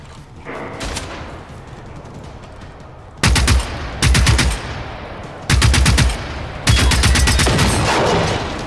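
Automatic and rapid gunfire in the open-world shooter Generation Zero, several loud close bursts with short pauses between them over a steady low background.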